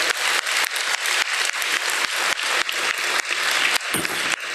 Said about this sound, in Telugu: గట్టిగా చప్పట్లు కొడతాం వాళ్ళకి.